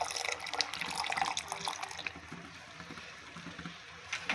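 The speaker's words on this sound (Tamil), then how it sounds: "இப்போ பாயசத்துக்கு பால் ஊற்றிக்கோ." Milk is poured into vermicelli payasam with roasted maroon semiya, a steady liquid pour and splash that runs louder for about two seconds, then settles into a softer trickle.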